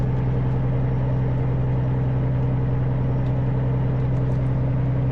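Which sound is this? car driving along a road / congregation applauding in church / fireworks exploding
car driving along a road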